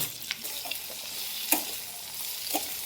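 Green chilies, onions and potatoes fry in hot mustard oil, giving a steady, close sizzle with a few brief stirring scrapes at regular moments.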